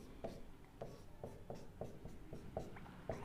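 A pen or pencil scratches on paper as someone writes by hand while working a maths problem, with short strokes repeating in a fairly steady rhythm, close and soft against faint background noise.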